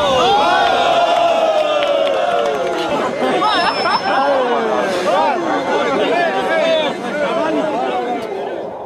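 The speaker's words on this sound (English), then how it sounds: "round of applause." A crowd cheers at an aerobatic display of Sukhoi Su-27 fighter jets: loud, dense chatter with whoops and shouts runs throughout, close and continuous.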